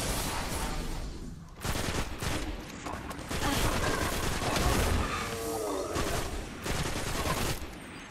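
Dense, sustained gunfire and explosive bursts from the Destiny shooter game on Mars, continuous and loud across the whole stretch with crashing impacts layered in.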